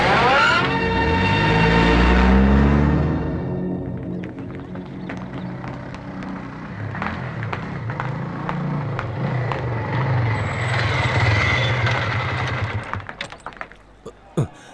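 A car in a tense horror-film scene pulls away with a loud, low engine rumble at the start, which fades out behind scattered clicks and knocks before a sharp thud at the end.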